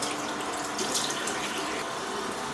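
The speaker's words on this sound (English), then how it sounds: "rinse the face mask off with cool water" Cool tap water runs steadily from a faucet while a face mask is rinsed off, a constant full-bodied splash with no break and no voices.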